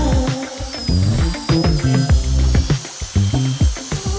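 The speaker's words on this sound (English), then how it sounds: "I sent a few more screws into the fence to permanently secure it" Screws are driven into the fence of a wooden crosscut sled with a power driver, giving a series of close, loud, ratcheting whirring bursts with short pauses between them and no talking.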